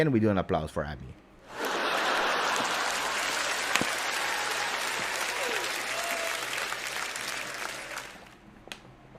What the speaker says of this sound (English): can we do an applause for Abby?